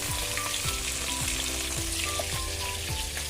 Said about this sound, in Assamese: মোৰ মাছ ভাজা হোৱাই নাই